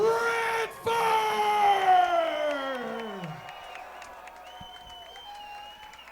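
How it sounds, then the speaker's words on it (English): A fight crowd cheering and applauding for the TKO winner, Lee Radford. A loud burst of yelling and whooping fades gradually into scattered applause and a quieter murmur. "Crowd went nuts for Lee Radford"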